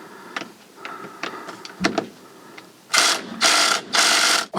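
A ratchet with a 10mm hex socket works a steering wheel bolt loose on a 2019-2024 Toyota RAV4, giving a few faint clicks followed by three loud, close bursts of rapid ratcheting.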